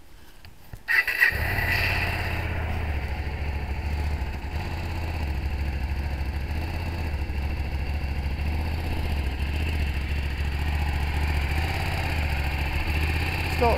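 A Hyosung GT250 EFI motorcycle cranks with a brief starter clatter, catches, and settles into a steady, close, mid-pitched idle that runs on evenly for over ten seconds, with no voices.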